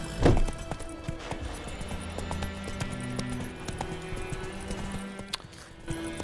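A horse's hooves clip-clop at a steady riding pace in the video game The Witcher 3, with a faint ambient game backdrop and no talking.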